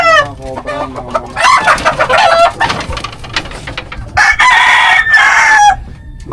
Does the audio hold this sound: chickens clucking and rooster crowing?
yes